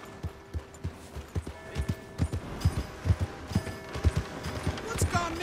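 Horse hooves clip-clop at a steady walking rhythm in the Red Dead Redemption 2 video game, many evenly spaced thuds close by over soft ambient background.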